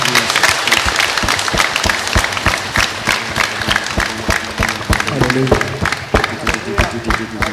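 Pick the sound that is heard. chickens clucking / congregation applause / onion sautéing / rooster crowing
congregation applause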